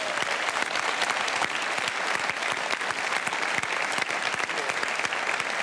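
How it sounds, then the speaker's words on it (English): A Perth studio audience at a televised Q&A debate on the ALP leadership applauds itself, a dense, loud, continuous roar of clapping from a large crowd that holds evenly throughout. "Please give yourselves a round of applause if you don't mind."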